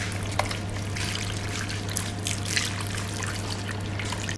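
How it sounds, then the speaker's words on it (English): Stock is poured from a container over potatoes in a baking tray, making a steady, close trickling and splashing that runs continuously throughout without any talking. "Pour your stock over your potatoes."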